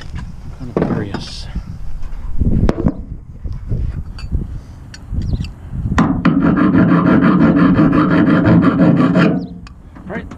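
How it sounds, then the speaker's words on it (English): Hand file rasping against scrap stainless steel, a steady back-and-forth scraping that runs loud and close through the second half, after a stretch of talk and handling noises. "There's my file."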